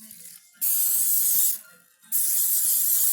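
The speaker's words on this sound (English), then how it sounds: "So what I'm going to do is spray my pan here." Cooking spray hisses onto a baking pan in two sharp bursts, the first longer than the second, with a quiet pause between them.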